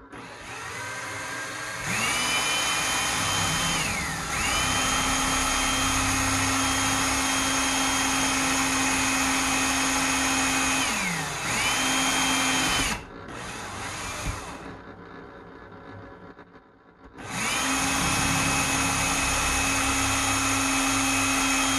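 A power drill bores holes for a lawnmower air-conditioning setup, whining up to a steady high speed in long loud runs, dipping between bursts, with a brief quiet pause before the drilling starts again.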